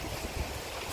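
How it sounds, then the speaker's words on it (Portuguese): Strong wind at sea during a fishing trip, a constant loud roar buffeting the microphone with rushing noise across the whole second. "senão vocês não ouvem, tá ventando muito"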